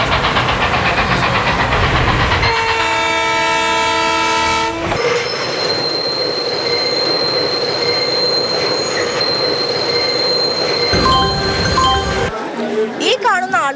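The Parasuram Express pulls into a railway station. Its horn blares loudly up close, and the wheels squeal and clatter along the rails as it arrives, with voices heard around it.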